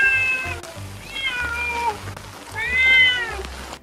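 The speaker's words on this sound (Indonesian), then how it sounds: "karena si Sundul ngeong-ngeong terus" Cat meowing repeatedly, three drawn-out close meows in quick succession, loud and plaintive, alone without talk.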